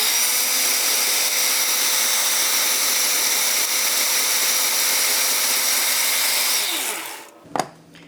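A cheap blender purees baby food with added water, its motor whirring loud and steady for about seven seconds before winding down, followed by a brief knock.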